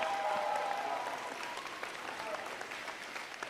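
Crowd applause and cheering for the Oklahoma City Thunder at a Boys & Girls Clubs ribbon-cutting event, a dense, steady wash of clapping with a few raised voices throughout.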